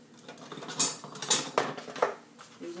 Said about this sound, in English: Using my spatula, I'll get it all the good stuff out into it.